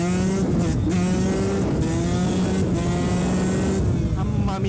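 A KTM SX 125 two-stroke motocross bike revs hard and continuously during warm-up wheelies, a loud, steady buzzing engine with rising and falling pitch through the whole stretch.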